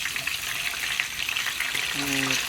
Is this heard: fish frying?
yes